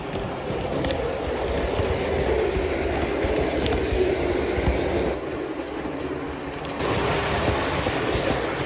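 A model turbo train runs on a layout track in a hobby setting, a steady low rumble and faint clickety-clack of wheels continuing throughout with slight level changes, no talk.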